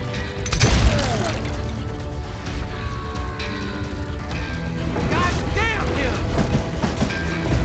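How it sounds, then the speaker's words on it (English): A train speeds down the tracks in the Western shooter game Call of Juarez: Gunslinger: a loud, continuous rumbling roar, layered with whistling, swooping game effects and scattered impacts throughout. "that train was flying down those tracks like a bat out of hell"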